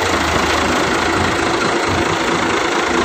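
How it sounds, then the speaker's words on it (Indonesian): A large Hino diesel bus engine idling nearby, a steady rough rumble with a constant knocking chug throughout. "Ciri khas mesin Hino."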